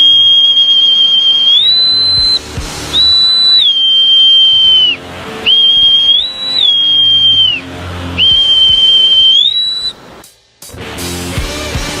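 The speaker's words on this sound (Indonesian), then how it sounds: "Itu ini Jona, peluit menandakan waktu prajurit bangun pagi." Shrill whistle on a navy training sailing ship signalling wake-up time for cadets, blown in four long loud steady calls, each with a brief upward step near its end and short gaps between.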